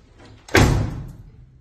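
A car's driver-side door is shut with a single solid slam that thuds loudly and then fades quickly, heard alone at close range.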